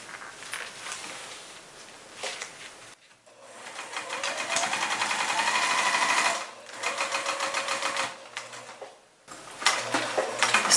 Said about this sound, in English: Then we sew up the other side.